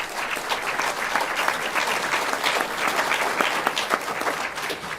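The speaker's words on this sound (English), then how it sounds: "Go ahead and give them a round of applause." Steady applause from an audience, dense clapping at moderate volume that holds throughout before easing slightly at the end.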